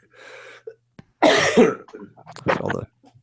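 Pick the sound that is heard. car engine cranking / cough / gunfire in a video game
cough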